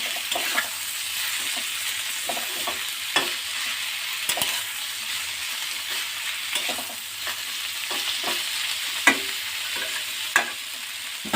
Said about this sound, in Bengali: ভালোভাবে এটাকে এবার নাড়াতে হবে